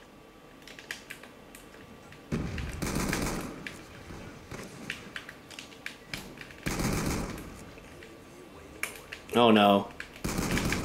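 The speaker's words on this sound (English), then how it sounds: "Silence the machine gun." Bursts of machine gun fire in Black Ops 2 team deathmatch crackle in several short rapid volleys, with a brief spoken exclamation between them.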